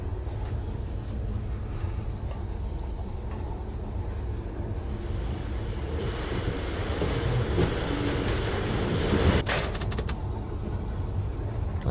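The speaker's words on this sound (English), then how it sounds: "That's an interesting way to make a minecart. It's like a monorail." Riding a minecart that hangs beneath a monorail in the video game Firmament, with a steady rolling rumble and clatter that swells slightly toward the end, ending in a brief burst of sharper rattling.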